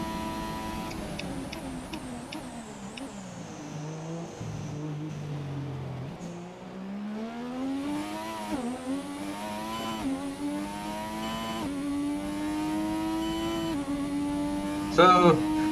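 A McLaren Honda Formula 1 car in the F1 2017 racing game, its high-pitched engine climbing and dropping through repeated gear changes, loud and continuous from a cockpit view.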